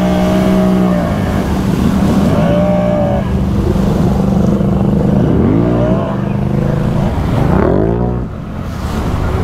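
An old Honda ATV engine churns through mud and water, loud and close, with rising and falling revs and throttle surges over constant low rumble.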